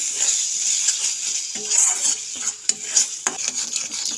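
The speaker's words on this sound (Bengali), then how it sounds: "আবার একটু নাড়াচাড়া করে নেবো মশলা গা থেকে তেল বেরিয়ে এসেছে মশলা কষানো হয়ে গেছে" Spice masala for a kofta gravy frying in oil while being stirred, with steady sizzling and repeated scrapes and clinks of a spoon against the pan, close and alone.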